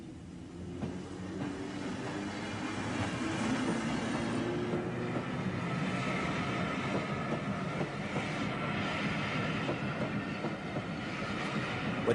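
A train runs steadily past an automatic level crossing with a continuous rumble and rhythmic wheel clatter. The passage lasts about twelve seconds, heard from the trackside at moderate distance.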